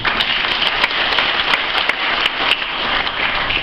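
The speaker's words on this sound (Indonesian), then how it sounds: "Nggak usah ditepuki." An audience applauds a speech at a university graduation ceremony, giving steady, dense clapping from a large crowd for a few seconds with no other sound standing out.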